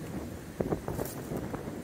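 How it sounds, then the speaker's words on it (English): Strong wind on a rocky mountain trail near Rockfish Gap buffets the microphone as a steady, rough rumble with a few louder gusts, and no voices. "You can hear the wind."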